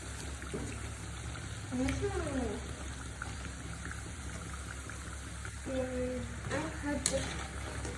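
Pitha dumplings deep-frying in hot oil for a papaya puli pitha, a steady low bubbling hiss with a few brief clinks and scrapes as they are turned and lifted out.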